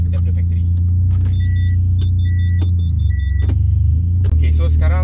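Mitsubishi Lancer / Proton Inspira 2.0 CVT fitted with a bolt-on turbo, driving in D: a steady low engine and road rumble inside the cabin, with faint intermittent beeps and clicks over it.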